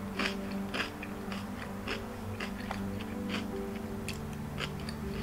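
Crunchy chewing of a celery and pork stir fry with lightly salted green vegetables, steady close-up bites and crunches repeating through the clip over a low background hum.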